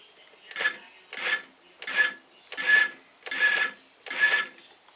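Small drone motors spin up in six short, evenly spaced bursts, each a brief whirring whine rising and falling back to near silence, close by with no talk.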